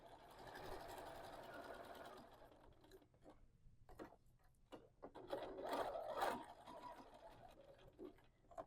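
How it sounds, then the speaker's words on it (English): Sewing machine stitching along a line around a fabric alphabet letter, a steady mechanical whir with a rapid needle rhythm, pausing briefly midway and then resuming, close and moderately quiet with no talking. "you're just going to stitch right along that line all the way around your letter"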